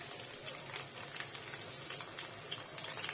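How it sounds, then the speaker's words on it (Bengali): Onions frying in oil in a pan with whole garam masala, bay leaf, cardamom, cinnamon and pepper for chicken korma, giving a steady, close sizzle and crackle throughout with no talk. "এখন পেঁয়াজটাকে একটু ভেজে নিচ্ছি।"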